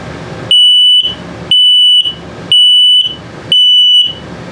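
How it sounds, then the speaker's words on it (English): Low-battery alarm from an RV's combined LP and carbon monoxide detector in a 2022 Sunset Trail 272BH travel trailer, sounding four loud, steady high-pitched beeps at an even slow rhythm, each about half a second long, close by with no talking. "If it beeps same tone but very slowly, it's telling you that your battery's low."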